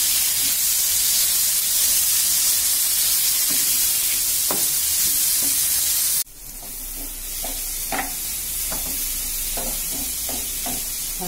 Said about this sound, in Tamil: நல்லா வந்து ஃப்ரை பண்ணியாச்சு